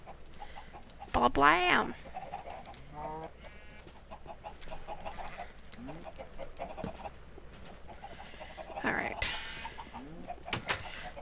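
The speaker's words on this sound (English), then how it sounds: "It's time to go kill me chickens." Video game chickens cluck in short bursts, with a louder squawk near the start and another later, while someone talks casually over them.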